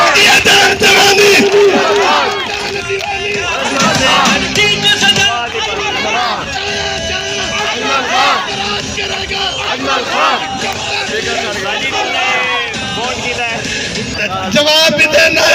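Large crowd at a Pakistani political rally for Nawaz Sharif chanting a slogan in loud call-and-response bursts, a leader's voice alternating with massed shouting and babble throughout.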